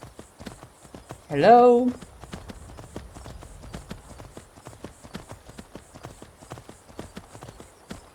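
Horse hooves clip-clop at a steady trot in the video game Skyrim, regular and fairly close throughout, with a brief spoken word near the start.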